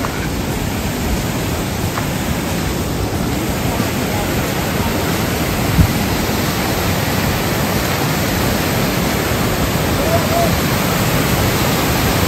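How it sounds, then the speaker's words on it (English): Constant rushing roar of a waterfall on Kulen Mountain, Cambodia, broad and steady from start to finish, with no breaks or pauses. "coming upon the first waterfall"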